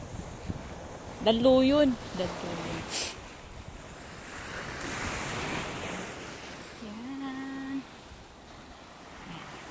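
Strong wind buffets the microphone over the steady wash of ocean waves at the shore, with someone speaking briefly and a few short tonal sounds.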